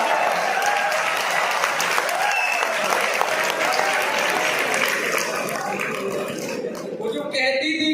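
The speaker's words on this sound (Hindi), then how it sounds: "ठोको ताली" Audience at a Hindi comic poetry show breaks into sustained applause, dense and lively clapping filling the room steadily throughout, with a few voices mixed in.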